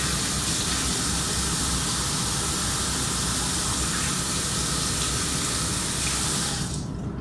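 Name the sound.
running water while washing carrots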